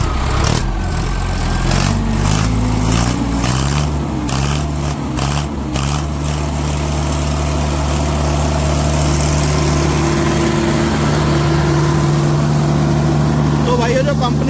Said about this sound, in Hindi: और ट्रैक्टर छूते ही स्टार्ट होगा, बहुत हल्का सा हाथ लगाना पड़ेगा जी,